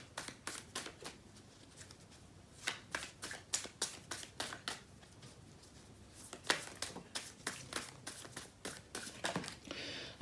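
Tarot cards drawn and shuffled from a deck: a steady run of crisp, close card flicks and slides, fairly soft, with no talking.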